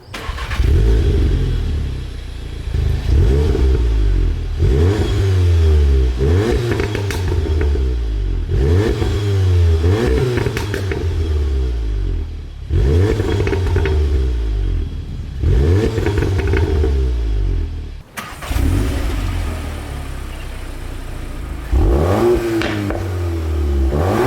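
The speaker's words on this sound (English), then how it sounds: "I'll get a start on both, we'll get a few revs in" 2021 VW Golf R Mk8 and Mk7.5R engines cranking to life and revving repeatedly, deep throaty bursts rising and falling in several cycles, loud and close, with a short pause between starts.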